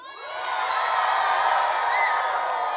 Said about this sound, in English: Give us an enormous cheer, everybody